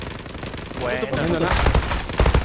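Rapid gunfire bursts in the online shooter Zula during a competitive match, loud and dense in the second half, with a voice speaking briefly over the shots.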